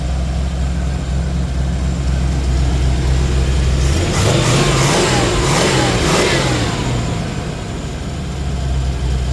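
A 1984 Chevy K5 Blazer with long tube headers and a carburetor idles with a deep rumble, then revs up sharply a few times before settling back to a steady idle, loud and close.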